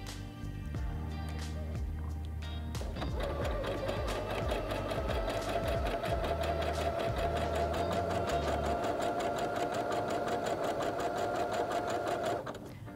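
A Singer HD6805C sewing machine stitching a zigzag with 5 mm width and 2 mm length: a steady, fast mechanical whirr with rhythmic needle ticking, close and continuous for most of the stretch after a brief start-up.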